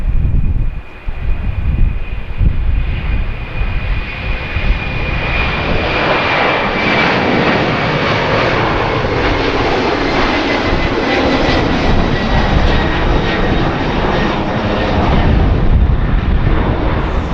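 A FedEx cargo plane takes off from Harrisburg airport with a loud, sustained engine roar that swells and holds steady throughout, rumbling heavily at the low end.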